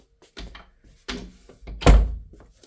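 A door handled in a tight space while on a trip, with several soft knocks building to a firm close near the end, heard up close with no talk.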